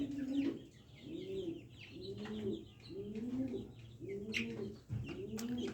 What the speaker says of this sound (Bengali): এই যে এখানে ব্রাহ্মা মুরগির বাচ্চাগুলো